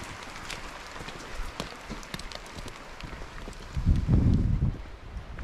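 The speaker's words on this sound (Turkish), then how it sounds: "Vallahi şıldır şıldır yağıyor." Heavy rain falls steadily outdoors as a dense, even hiss, with a louder, rougher surge of patter and low thumps near the end.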